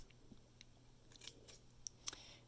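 Scissors snip excess paper off a folded German paper star (Fröbelstern), giving a few quiet, sharp cuts spread over a couple of seconds against a faint background hum.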